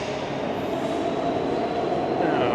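A Vancouver SkyTrain rapid-transit train rolls past close by, a steady loud rumble with wheel noise and a faint high whine that holds at the same level for the whole stretch.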